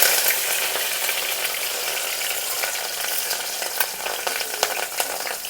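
Green chillies hitting hot oil already popping with mustard seeds and cumin, a steady bright crackling sizzle with scattered sharp pops, close and loud with no talking.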